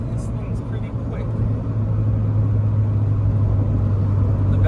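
A B-swapped Honda CRX accelerates hard at high RPM, its engine a loud, steady rumbling drone that climbs under the cabin, with a voice speaking over it.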